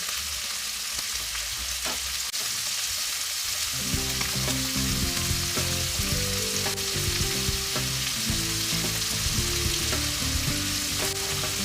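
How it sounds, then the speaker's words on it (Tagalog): Pork meat sautéing in a pan for lomi, a loud steady sizzle and crackle with stirring scrapes throughout, close up and with no talk. "Para habang ginigisa natin guys yung ating karne"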